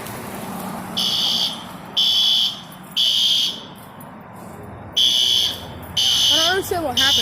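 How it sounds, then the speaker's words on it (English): A fire alarm sounds in repeated loud, shrill electronic beeps, each lasting close to a second, with gaps between them and people talking underneath. "There's a fire alarm going off right now."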